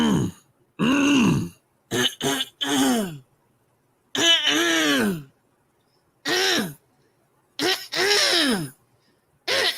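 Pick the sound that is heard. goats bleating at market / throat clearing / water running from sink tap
throat clearing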